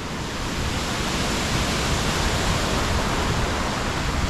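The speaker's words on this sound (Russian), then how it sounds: "какой водопад!" A waterfall near Sosnovka beach in Gelendzhik roars as a steady, dense broadband rush of falling water, loud and close, with no voices over it.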